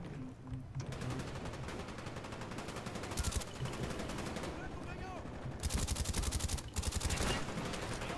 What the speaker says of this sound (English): Oh, that was a headshot.